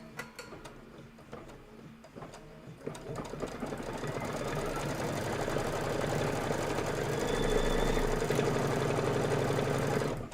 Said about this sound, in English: Step number 3 says to stitch the cuff placement line